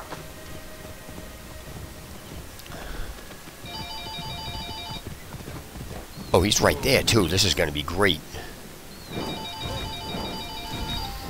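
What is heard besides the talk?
telephone ringing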